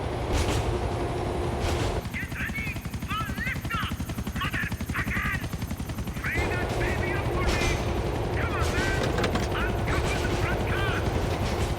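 Rapid bursts of gunfire in the video game GTA: The Ballad of Gay Tony crackle over a steady mechanical rumble, with short chirping effects between volleys.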